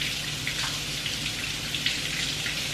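Fresh mango rinsed under a running kitchen tap, a steady close hiss of flowing water with small splashes and drips as the fruit turns in the stream, no voices.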